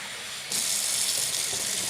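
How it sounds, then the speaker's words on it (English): Hot water runs from a kitchen tap, a steady rushing stream that starts abruptly after a brief quiet moment and continues close and loud. "So let's get some hot water here."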